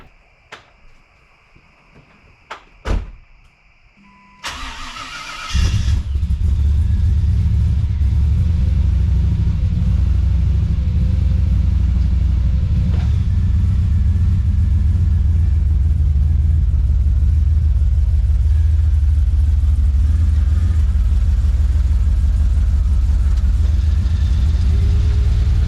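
A Jeep Cherokee engine cranks, catches and settles into a loud, steady low rumble that idles on without a break after a few clicks, close by.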